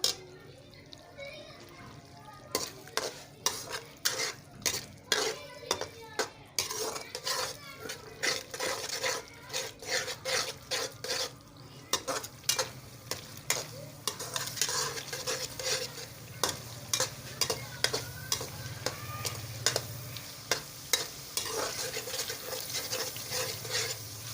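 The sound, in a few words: Mughlai dal being sautéed with yogurt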